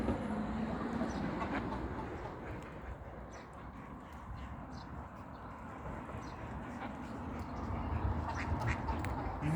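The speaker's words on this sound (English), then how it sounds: "So those are the birds." Birds call repeatedly beside a river on a hot day, their quacking cries rising over a constant rumbling, clattering background for the whole stretch.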